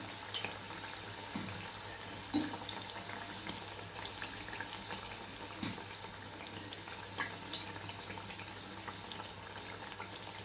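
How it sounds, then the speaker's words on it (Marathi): Maida and potato snacks frying in hot oil, a steady soft sizzle and crackle running the whole time with a few small pops, close and fairly quiet, no talking. "अशा पद्धतीने छान तळून घ्यायच्यात आपल्याला मस्त सोनेरी कलर येस्तवर"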